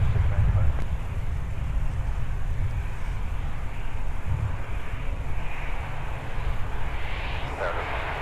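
Steady, loud engine roar of a C-130 aircraft at Minneapolis–St. Paul airport on a muggy winter day, a broad continuous drone with wind buffeting, holding evenly throughout without distinct breaks.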